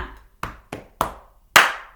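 Five sharp percussive hits from a children's music lesson: a low thump like a foot stamp, three quick claps, then a louder final clap, evenly spaced and close up with no talking.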